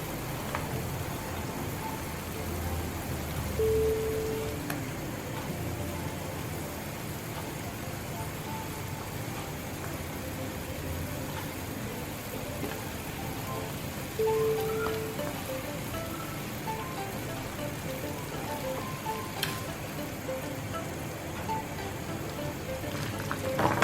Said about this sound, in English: putting those sheets into the boiling water